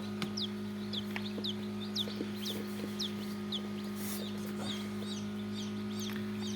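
A farm hen among hatching eggs makes a regular series of short, fairly faint calls over a steady electrical hum.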